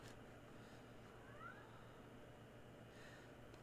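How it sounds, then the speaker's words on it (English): A house cat gives a single short, faint meow against a quiet room hum, a brief rising call with nothing else happening. "why are you meowing at me?"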